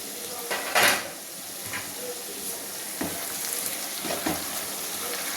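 Egg masala curry fries slowly in a pan with a continuous sizzle, broken by a few clinks and scrapes of a utensil against the pan.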